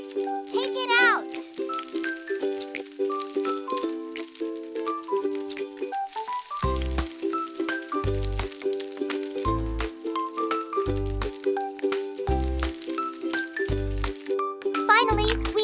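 Mini taro cheese balls frying in cooking oil, a soft continuous sizzle lying beneath steady background music with a regular low beat, nearby and fairly faint.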